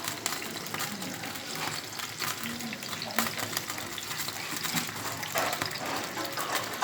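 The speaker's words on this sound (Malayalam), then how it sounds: "പാൻ ചൂടായിട്ടുണ്ട്. ഇനി നമുക്ക് മസാല വെച്ച് ഇട്ടിടാം." Masala spices frying in a heated pan produce a steady, close sizzle with scraping and stirring throughout, loud and continuous.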